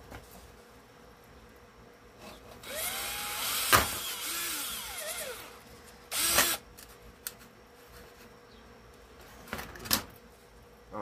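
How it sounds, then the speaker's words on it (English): A power drill bores through a speaker grill in short bursts, with a whining run of a few seconds followed by quick, sharp spurts and brief pauses in a quiet room, with no talking. "I'm going to have to drill these holes on through"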